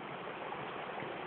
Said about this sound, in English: down at the bottom there, that's where the river is, that's where it's rushing